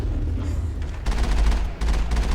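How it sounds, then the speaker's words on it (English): M35 Mako tank in the Mass Effect video game firing its cannon: heavy booming blasts over a constant loud low rumble, several cracks in close succession with no talk. "So next time, we fire the cannon at things."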